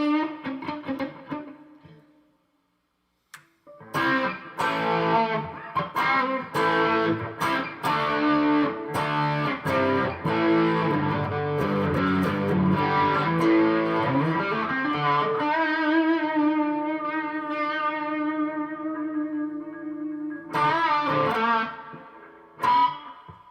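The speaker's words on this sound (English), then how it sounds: "Way too much reverb still." Distorted music drenched in heavy reverb from a live jam, notes smearing and ringing on into a long washy tail, steady and moderately loud throughout.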